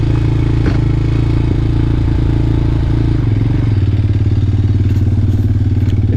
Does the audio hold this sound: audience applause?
no